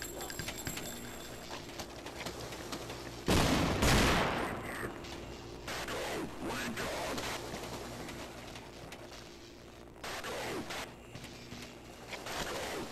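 Gunfire in the virtual-reality shooter Half-Life VR, with dense rattling volleys and a louder blast amid a constant wash of game noise, all fairly loud and continuous.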